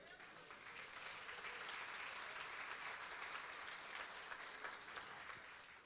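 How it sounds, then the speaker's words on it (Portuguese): A church congregation applauds during a sermon, the dense, steady clapping of many hands heard from a distance at low level, continuous for several seconds. "Você pode aplaudir o Senhor, então?"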